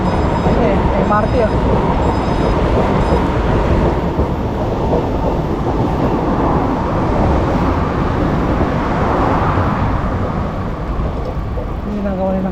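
An MRT train in Singapore roars past nearby, a loud, steady rumble and rush of noise that fills the whole stretch without letting up.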